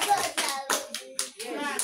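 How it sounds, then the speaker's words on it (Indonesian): A group of children at a church fellowship gathering performs a clapping salute cheer, with a run of sharp, rhythmic hand claps mixed with young voices chanting along, close and fairly loud. "Ya, tepuk salut untuk saudara kalian"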